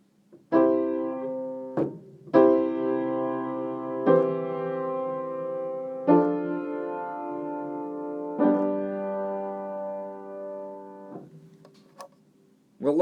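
Four-part SATB chords in root position with the root doubled in the outer voices, sounded as five sustained block chords one after another, each held about two seconds with clear harmonic tone and no talking.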